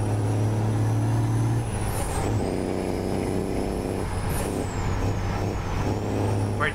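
A truck in the Realistic Truck Driving game rumbles through heavy traffic with a steady low engine drone, gear-shift whines and sharp hissing air-brake releases, along with other traffic passing close by.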